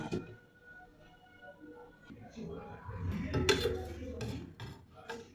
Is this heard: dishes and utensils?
yes